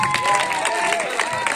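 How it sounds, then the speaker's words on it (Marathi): Students and audience at a Marathi school quiz competition clap and cheer for the second-placed team. The applause is lively and fairly close, with a voice carrying over it. "त्यांच्यासाठी जोरदार टाळ्या"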